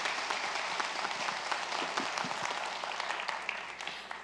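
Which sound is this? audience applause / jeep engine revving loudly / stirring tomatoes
audience applause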